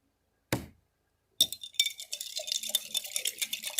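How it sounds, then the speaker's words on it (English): A spoon works through a honey mixture in a pan, starting with a single clink, then a second after a pause, then rapid scraping and rattling strokes close by. "Let me sit here and stir it for a little bit."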